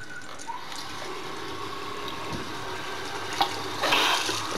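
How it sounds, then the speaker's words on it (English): Water runs steadily from a bathroom sink faucet while a repaired sink drain is tested for leaks, a soft continuous stream with a couple of brief splashy bursts near the end. "I'm turning the water on"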